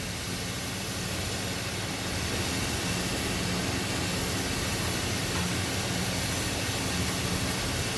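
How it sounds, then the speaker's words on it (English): A glassblowing torch roars steadily and loudly throughout while a glass bowl gets its final blowout shaping, a constant broadband rush with no pauses. "Now I'm going to do my final blowout to shape this bowl."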